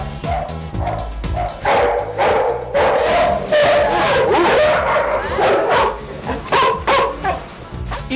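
Several dogs bark, yip and whimper at a boarding kennel in Ahmedabad, loud, close, overlapping bursts that come in irregular waves without pause.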